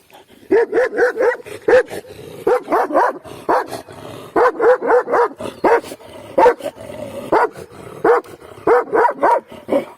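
A yellow-headed Kangal-type dog barks repeatedly in quick bursts, close and loud, with short yips between volleys and brief pauses before each new run of barks.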